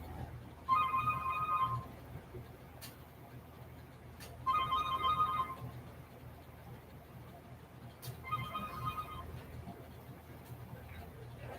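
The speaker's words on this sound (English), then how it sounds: "I hear a phone ringing." Mobile phone ringtone sounding in a home, three separate bursts of ringing spaced a few seconds apart against a low background rumble, moderately loud and a little distant.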